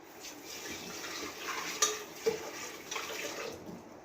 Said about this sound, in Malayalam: കുറച്ചും കൂടെ വെള്ളം ചേർക്കണം